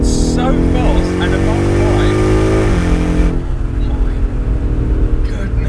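A 2019 BMW M5 Competition tuned to AC Schnitzer ACS5 Sport spec with 720 bhp accelerates hard in fifth gear, its loud engine note climbing steadily and then settling into a rough roar of wind and road noise.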